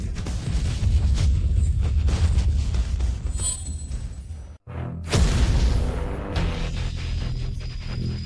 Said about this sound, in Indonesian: Tungku akan meledak, Chu Feng, cepat menyingkir.